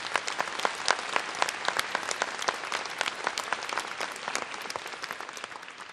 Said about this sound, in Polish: Prosimy o brawa.